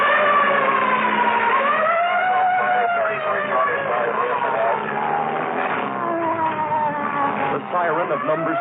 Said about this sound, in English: Siren of number 66 pierces and shatters the thought processes.